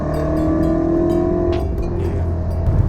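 A BMW X5 M Competition SUV's engine drones steadily while driving, with a loud sustained low hum and harmonic tones and a brief higher swish midway, with no talk.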